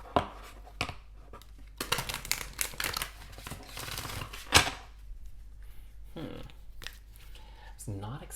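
Tarot cards being shuffled in quick riffling bursts, close and crisp, with pauses and some handling noise between.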